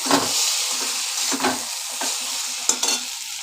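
Egg chow mein is stirred in a hot pan, with scraping strokes at intervals over a steady close sizzle of frying.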